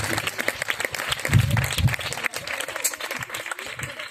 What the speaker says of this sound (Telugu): ఒకసారి బిగ్గరగా క్లాప్స్ కొట్టి వారిని అప్రిషియేట్ చేద్దాం.